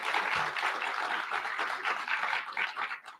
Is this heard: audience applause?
yes